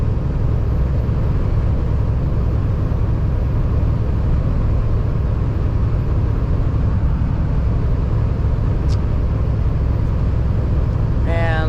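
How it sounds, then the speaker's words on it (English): Steady broadband rumble and hum from inside a moving car with the air conditioning running, continuous and fairly loud, with no distinct events beyond a brief faint click near the end. "I'm driving with my AC on."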